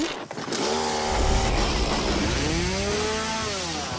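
A chainsaw runs steadily at close range, its engine whine rising and falling slightly in pitch as it revs throughout.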